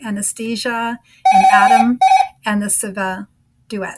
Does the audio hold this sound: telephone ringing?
yes